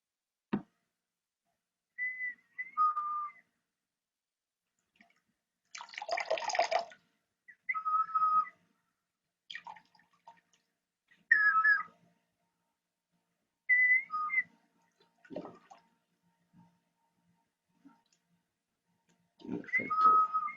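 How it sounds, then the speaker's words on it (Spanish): Water-filled Mochica replica whistling bottle with a resonance chamber, giving short breathy whistles in scattered bursts with gurgling water sounds between them, close and fairly quiet against near silence. "Esa es una botella silbadora con cámara de resonancia."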